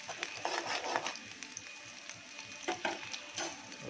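Onions frying in a pan on a gas stove give a faint, steady crackling sizzle with scattered brief pops and stirring scrapes, quiet and close, without talk.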